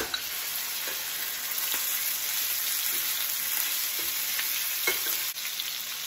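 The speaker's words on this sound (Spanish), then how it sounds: "Ya que esto esté caliente, vamos a agregarle la carne." Ground meat for tacos sizzles in hot bacon fat in a pan, a steady, dense crackle with occasional scrapes and taps of stirring, close up and without talking.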